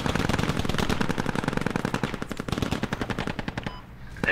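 Mounted gun on a BTR armored vehicle in the military shooter Squad fires sustained rapid automatic bursts, loud and close, with a steady rhythm that tapers into a brief pause and a final shot.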